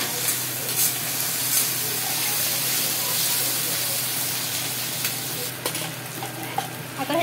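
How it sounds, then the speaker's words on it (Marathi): Chillies and onions frying in oil for baingan bharta, a dense, continuous close sizzle with occasional scraping and crackling bursts from mixing, fairly loud throughout with no speech. "याला थोडंसं तेलात होऊ देऊ आपण मिक्स."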